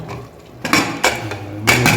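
A metal lid clanks down onto a pressure cooker of mixed vegetable gravy, followed by a few more sharp metallic knocks as it settles into place.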